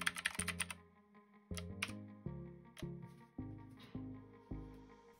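Individual keystrokes land at an unhurried pace on a Redragon Kumara K552 mechanical keyboard, each press a crisp, fairly loud click with a ringing tail, heard close and alone with no talking.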